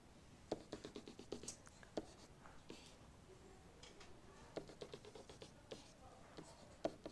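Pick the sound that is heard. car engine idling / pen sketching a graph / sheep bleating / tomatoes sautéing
pen sketching a graph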